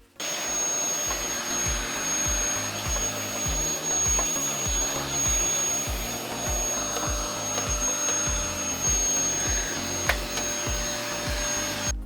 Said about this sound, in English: So I'd remove everything, I'll blow the dust off